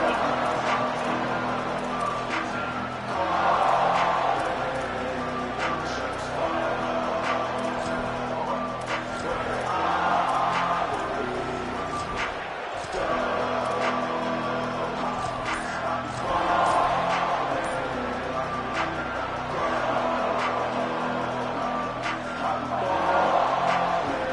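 Stadium crowd at an NCAA college football video game, LSU versus Michigan, gives a steady roar that swells and falls in waves, with a commentator talking over it throughout.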